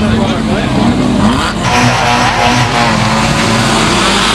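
An Audi race car sits at the start of a race, its engine droning loud and steady, rising and falling slightly as it revs, with a voice speaking over it.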